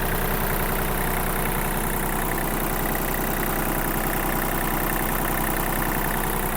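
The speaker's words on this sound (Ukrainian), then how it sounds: "Двигун з маркуванням D1463, досить популярний куботовський двигун" A Kubota T-240 mini tractor's 1450 cc three-cylinder D1463 diesel engine idling close by, a loud, steady rattling drone that holds constant throughout without any change in speed.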